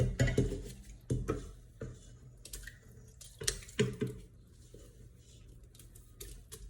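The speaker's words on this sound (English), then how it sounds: "Then I'm gonna put my potato to the pot and mix it." A spoon scrapes and knocks against a pot while boiled potatoes are mixed for mashed potatoes, giving irregular soft clacks and squishy thuds, close and fairly quiet.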